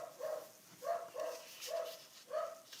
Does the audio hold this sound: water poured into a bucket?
no